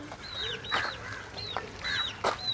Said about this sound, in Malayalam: ഇതാ നമ്മളിങ്ങനെ റോഡിലൂടെ നടന്നു പോയപ്പോഴും കോഴിക്കുഞ്ഞുങ്ങൾ വരുന്നതൊക്കെ ഇതാ കണ്ടില്ലേ